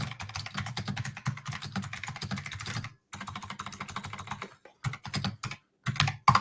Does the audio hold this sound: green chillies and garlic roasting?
no